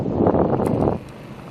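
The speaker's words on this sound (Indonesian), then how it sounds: "cuaca juga tidak mendukung karena angin masih kencang" Strong wind buffets the microphone on an outing to spear fish, a loud rough roar that gusts for a second and then eases off.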